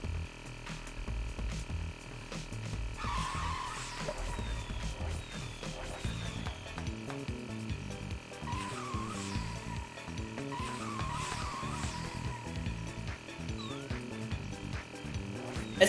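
A glitching cart in the Hello Kitty Kruisers racing game skids with repeated squealing tire sounds over a steady engine hum and game music, the squeals rising at intervals.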